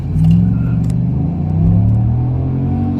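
A 2021 Chevrolet Silverado pickup with a 5.3L V8 accelerates hard on a street during a 0 to 60 run. A loud, deep engine rumble swells and holds close by.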